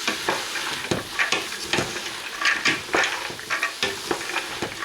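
Parsley and coriander sautéing in a pot over the heat for Moroccan harira, a steady close sizzle broken by repeated sharp stirring scrapes and clinks about every half second.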